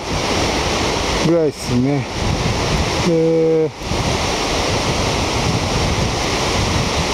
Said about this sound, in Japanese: 仙台新港の波情報をお知らせします。